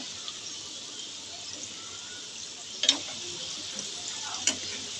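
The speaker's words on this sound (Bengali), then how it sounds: "এবার মাঝারি হিটে আমি আলুগুলো ভেজে নেব।" Potato spirals frying in oil over medium heat: a soft, steady sizzle hisses in the background, broken by two brief sharp crackles or utensil clicks, with no talking.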